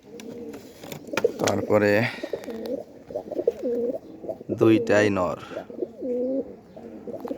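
Guest pigeons coo in repeated throaty, rolling phrases close by, with a couple of louder bursts, while someone speaks briefly in between.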